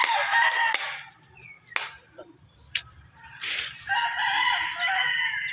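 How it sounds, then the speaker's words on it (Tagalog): Fighting roosters crow repeatedly amid scattered clucking from chickens on a farm, with sharp bursts and quieter gaps between calls. "nakita nyo naman napakaraming manok dito, farm"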